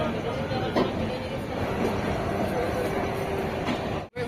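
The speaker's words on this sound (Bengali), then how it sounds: "আমাদের শিয়ালদা পুরী দুরন্ত এক্সপ্রেস তার গন্তব্যের দিকে 8:15 একদম রাইট টাইমে তার সোর্স স্টেশন থেকে ছাড়ছে" The Sealdah–Puri Duronto Express, an LHB rake, pulls out of its source station with a continuous rolling rumble and faint rail clatter heard from inside the carriage, steady throughout with a brief dropout near the end.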